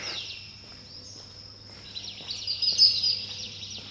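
Faint birds chirp in the distance, a thin, high twittering over a steady low hum from power-plant generators, growing slightly livelier toward the end.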